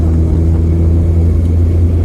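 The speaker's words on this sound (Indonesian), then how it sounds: "dibalap truk aku." A turbo diesel truck overtakes a Xenia Turbo car, heard from inside the car as a loud, close, continuous low engine rumble with a heavy droning tone.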